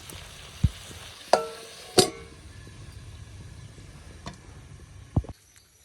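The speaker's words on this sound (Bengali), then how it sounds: "নাড়াই টাড়াই একটু ঢাকা দিয়ে দেবো। ভালো করে কষানো হোক।" Taro leaf curry is cooked in a pan, a faint low sizzle running underneath while a spoon scrapes and clinks against the pan a few separate times, close and with no talking.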